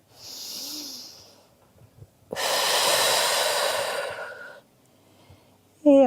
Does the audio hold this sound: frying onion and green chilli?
no